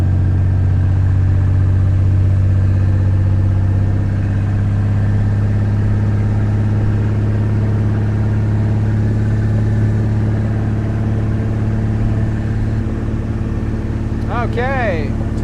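1957 Chris Craft 20-foot Sportsman boat engine running, a loud steady low drone with rising revs, close, with wind and a short tonal warble near the end.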